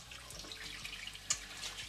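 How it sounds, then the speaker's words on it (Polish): Warm tap water runs into a sink while pork stomachs are washed under it, a soft steady trickle with faint splashes and one small clink, fairly quiet and without talk. "Myjemy żołądki dokładnie pod ciepłą, bieżącą wodą."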